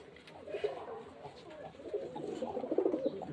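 Lalmohan pigeons kept for sale at a loft in Beldanga coo softly and repeatedly, a low murmuring flock sound that swells toward the end, with faint background noise.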